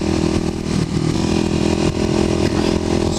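A Kawasaki KLX250SF motorcycle engine drones steadily while riding on rural back roads, a loud, close, continuous mid-pitched roar with slight rises in revs and wind rush.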